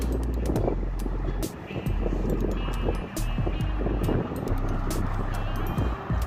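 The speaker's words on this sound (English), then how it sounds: "excuse the wind, it's a little windy today" Gusty outdoor wind rumbles and buffets the microphone while a car is being wiped down with a microfiber cloth, a loud, uneven low roar with brief dips and occasional handling clicks.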